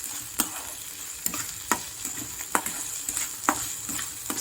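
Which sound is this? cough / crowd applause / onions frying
onions frying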